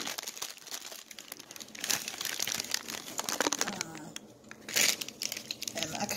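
A cookie being worked out of a crinkly bag, with a steady run of close crumpling and crinkling rustles and brief louder crackles, heard alone without talk.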